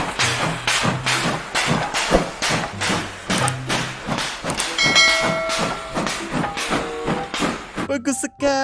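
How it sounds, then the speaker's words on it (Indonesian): A toy train sound effect: rhythmic chugging puffs repeat steadily, joined by tonal whistle-like notes midway and a hiss near the end, loud and close. "ini train, kereta api."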